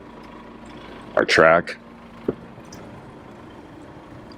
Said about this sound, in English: We got the engine running.